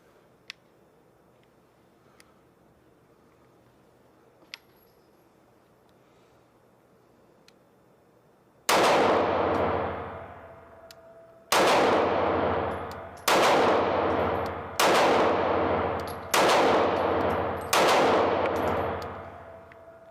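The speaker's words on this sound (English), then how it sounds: "And this gun is not moving at all as I shoot it." A Taurus G2C 9mm pistol fires six loud, sharp shots at irregular intervals of one to three seconds, each ringing out and decaying. Light ticks and handling sounds come before the first shot.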